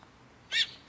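A single short bird call, bright and high-pitched, rings out once midway through an otherwise quiet moment, fairly close and clear with no talking.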